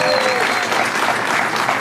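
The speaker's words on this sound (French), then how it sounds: "Ah ben vous pouvez l'applaudir." Live audience applauding steadily in a comedy show hall, a dense, loud, continuous clatter of clapping hands that fills the whole moment.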